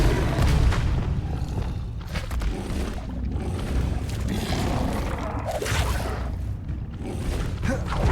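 Bombarda blasting spell going off in Hogwarts Legacy, a loud sustained booming rumble with whooshing bursts and crackling debris, filling the whole stretch without a pause.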